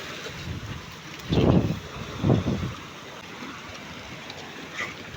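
Sea waves and wind out on open water aboard a fishing boat, steady windy hiss with two rolling wave surges washing up close, no voices.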